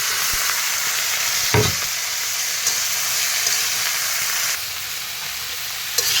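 Vegetables including radish frying in a pan after onion, green chilli and five-spice tempering, a steady loud sizzling hiss with occasional stirring knocks and scrapes up close.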